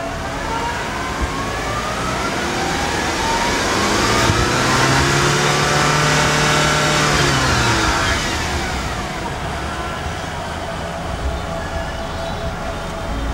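A third-generation Honda CR-V engine revs up once. The whine climbs, holds for several seconds, then falls back toward idle, loud and close, with faint background noise.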